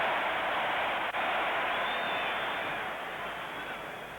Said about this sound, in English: a great cheer there for the Frenchman